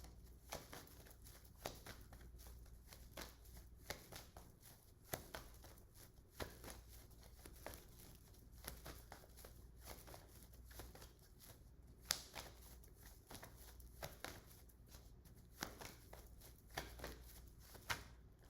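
Tarot cards being shuffled by hand during a reading, a steady run of soft papery riffles and flicks with crisp snaps repeating throughout, close and fairly quiet, with no voices.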